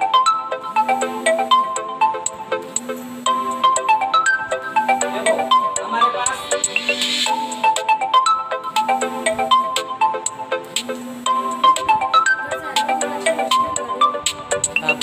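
A mobile phone ringtone plays loudly during an online class 10 maths lesson, a bright looping melody that repeats steadily for the whole stretch, with a few words spoken briefly over it.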